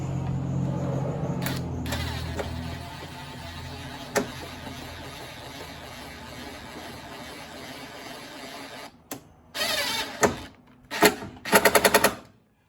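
A wrench tightening a nut on a dashboard bracket of an MGTD under restoration: a steady low hum gives way near the end to several short bursts of quick ratcheting clicks, close and fairly loud.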